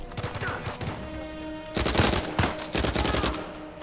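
Gunfire during an Uncharted 4 firefight: a sustained volley of rapid shots, then heavier, louder bursts of automatic fire in two dense clusters, close and continuous.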